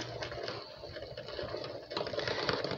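Vanilla custard mixture is whisked briskly in a bowl while hot liquid is poured in, a fast, rattling, clicking rhythm of the whisk that stays close and continuous, with no talk.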